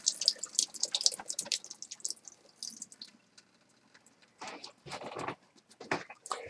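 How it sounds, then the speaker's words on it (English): Canned food rinsed and drained in a kitchen sink, with close splashing and dripping water in uneven bursts, a quiet pause, then more running water. "I'm going to rinse them and drain them again."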